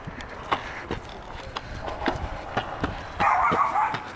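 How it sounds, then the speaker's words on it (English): A dog barks in short repeated yaps with a skittering rhythm, fairly close, over a background of faint household noise. "Bark."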